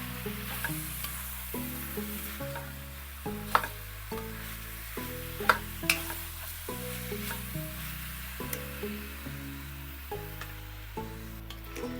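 Pork sautés in a pan for Kapampangan pork binagoongan, a faint, steady sizzle with occasional stirring clicks, set under louder background music.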